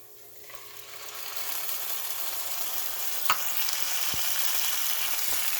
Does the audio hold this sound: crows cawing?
no